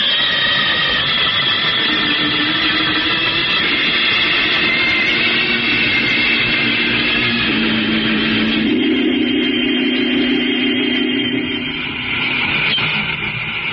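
A space jet boat roars past in a vintage science-fiction radio drama effect, a loud, steady jet-like rumble and whine that holds for the whole stretch and shifts in pitch partway through, with no voices over it.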